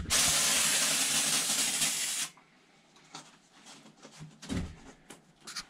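A loud, steady spray hisses for about two seconds in a greenhouse, then cuts off, followed by quieter shuffling and knocking sounds.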